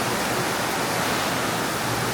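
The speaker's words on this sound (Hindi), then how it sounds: "वाह बाप रे, बहुत तेज बारिश है।" Heavy rain pouring down in Bangalore, a dense, steady roar of falling water with no gaps, loud and close, without voices.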